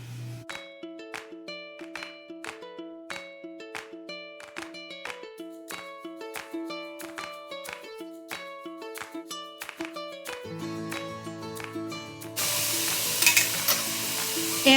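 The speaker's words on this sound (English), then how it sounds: "we are going to cook these over medium heat for about 5 to 6 minutes in some butter" Diced vegetables cooking in butter in a pan over medium heat, with soft sizzling and repeated clinks of a utensil stirring against the pan in a steady rhythm, and louder frying toward the end.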